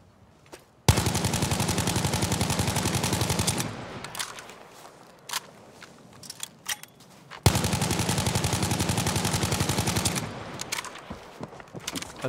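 Two long sustained bursts of rapid automatic gunfire in the Battlefield video game, each about three seconds, loud and dense with rattling shots, separated by quieter scattered clicks and distant shots.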